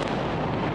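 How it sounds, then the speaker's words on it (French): A heavy explosion during a night of bombardment in Gaza, heard as a brief, dense, loud roar that fills the whole moment without a break. "suivi d'une explosion terrifiante."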